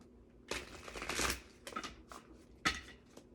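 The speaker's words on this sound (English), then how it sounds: "Let's go ahead and shuffle all of our decks." A deck of tarot cards being shuffled by hand in a quiet room, with soft irregular riffles and sharper slaps of card edges, fairly close and alone.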